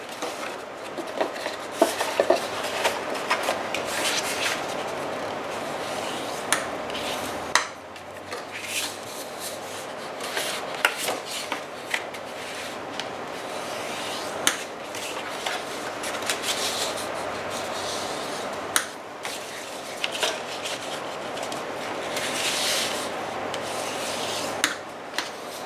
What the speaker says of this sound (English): Going over it with the bone folder just to crease everything really strong, because this is cardboard cardstock